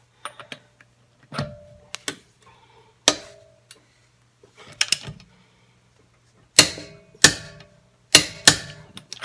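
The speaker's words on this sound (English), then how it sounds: "Now I have my torque wrench here. Let's set it to 100 foot-pounds" A torque wrench set to 100 foot-pounds gives a series of sharp, close mechanical clicks in loose bursts, getting louder and more frequent toward the end, with quiet gaps between groups.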